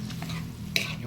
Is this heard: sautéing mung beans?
yes